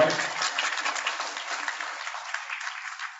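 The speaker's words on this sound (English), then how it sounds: "Let's give him a round of applause, everybody." An audience applauds at a New York community Holi celebration honoring a couple, a steady, dense wash of clapping from many hands that holds at even strength throughout, with no voices standing out.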